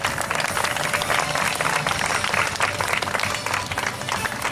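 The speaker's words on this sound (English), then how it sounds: "So let's give a round of applause to our cast from Mermaid." A crowd applauds the Mermaid float cast at a Disney Festival of Fantasy Parade costume preview, with dense steady clapping throughout and no break.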